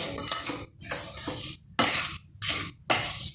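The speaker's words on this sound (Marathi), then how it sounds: "यामध्ये घालूयात वेलची पूड मिक्स करून घेऊयात" Cardamom powder is stirred into a jaggery mixture with a utensil scraping and clinking against the pan in four or five separate bursts, each a second or less, separated by short silences.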